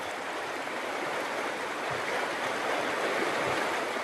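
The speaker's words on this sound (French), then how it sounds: "Les pieds dans l'eau, nous écoutons la rivière." The Sioule river in the Auvergne valley of France flows past in an even, continuous rushing wash of water, close and steady throughout, with no voices.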